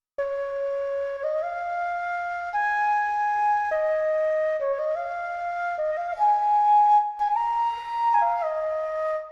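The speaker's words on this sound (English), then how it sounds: "I just got this flute, this Jubard flute" A Jubard flute from a Contact sample library plays a simple, basic melody of sustained, stepwise notes, clear and alone, with a gentle breathy tone and no voices.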